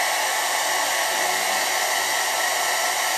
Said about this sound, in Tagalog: Kasi pangit sa buhok din yung sobrang lapit yung blower sa buhok natin.